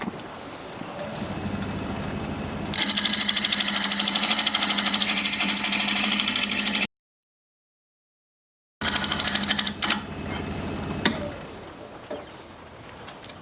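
A gouge cuts into wood spinning on a lathe, a steady loud scraping roar over the motor's hum that breaks off into a short silence and then resumes, fading toward the end.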